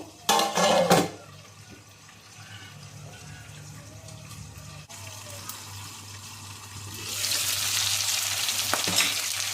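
Chicken sizzles in a pot as it fries, with a clatter at the start and the frying swelling louder and hissier toward the end.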